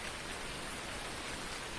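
Rain pours down during harvest on a farm in Farming Simulator 19, a dense, continuous, even hiss with no pauses or talk over it.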